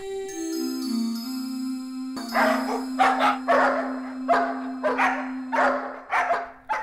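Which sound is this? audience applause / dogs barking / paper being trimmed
dogs barking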